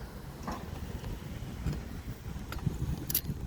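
A truck rumbles past on a street, heard from a bicycle as a low, steady engine and road noise at moderate distance, with no talking.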